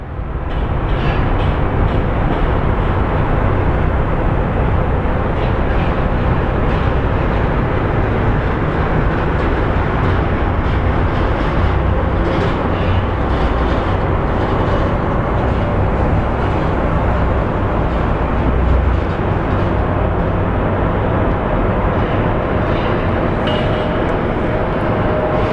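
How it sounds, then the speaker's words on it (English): An airliner arriving from Colorado Springs lands at Phoenix Sky Harbor, producing a loud, steady roar of jet noise that holds without a break for the whole stretch. "getting a look at the flight from Colorado Springs as it lands"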